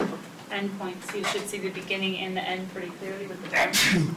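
A sharp sneeze bursts out near the end of a calculus lecture, right after a stretch of steady talking by one person.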